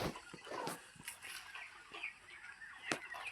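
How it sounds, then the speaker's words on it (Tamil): Free-range country chickens cluck and call inside a coop, several birds chattering near and far in short overlapping bursts, with brief rustling and wing movement. "இப்போ பாருங்க, நாட்டுக்கோழி தான் இருக்குது உள்ள"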